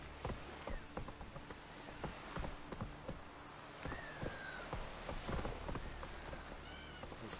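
Hooves of Geralt's horse Roach galloping in The Witcher 3, a quiet, rhythmic clip-clop beating steadily over a soft rain-like ambient hiss, with a few faint tonal calls drifting in the background.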